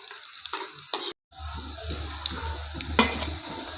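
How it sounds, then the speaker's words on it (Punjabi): Fried bitter gourds being lifted out of a wok with a utensil give a few sharp metallic scrapes and clinks over a soft, steady sizzle of hot oil. "ਕਰੇਲੇ ਫਰਾਈ ਹੋ ਗਏ ਆ ਤੇ ਹੁਣ ਆਪਾਂ ਇਹਨਾਂ ਨੂੰ ਬਾਹਰ ਕੱਢ ਲੈਣੇ ਆ ਕੜਾਹੀ ਦੇ ਵਿੱਚ"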